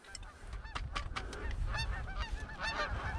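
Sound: Canada geese honking while flying in to land

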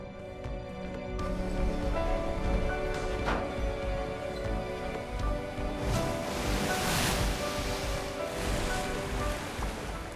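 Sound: sea waves crashing

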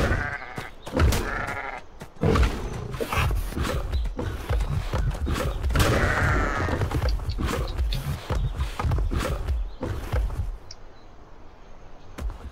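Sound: sheep bleating in Atlas video game

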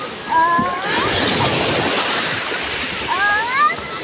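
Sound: sea waves breaking at the beach

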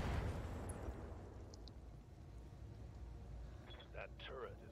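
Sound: explosion destroying shredder turret in Battletech video game

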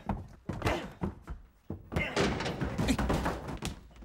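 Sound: door being rammed open

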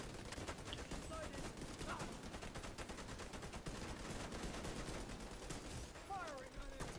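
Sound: gunfire from the video game The Division

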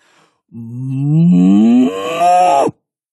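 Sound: cows mooing

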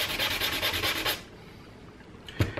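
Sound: sanding by hand with 220 grit sandpaper

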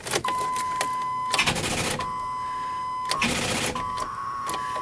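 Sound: truck engine cranking on starter after distributor replacement

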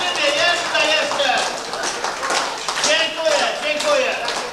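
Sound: audience applause at a CB radio party

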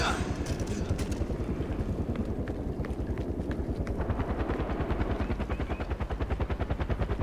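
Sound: helicopter in Far Cry 4 video game

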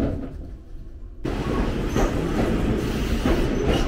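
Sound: regional train running

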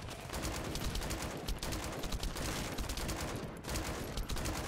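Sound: gunfire from the player's gun in the video game The First Descendant

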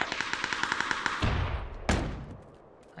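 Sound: gunshots in the video game PUBG

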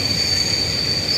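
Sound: Network Rail test train with class 43 power cars arriving at station

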